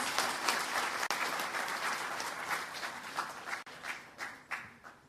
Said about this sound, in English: Let me request all of you to give a big applause to these three eminent persons